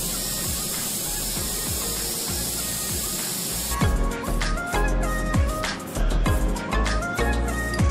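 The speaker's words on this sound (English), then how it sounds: "now the only thing left to do is, well, spray it" Spray paint hisses from an aerosol can onto motorcycle fork tubes, a steady close spray that shifts into short bursts and pauses partway through.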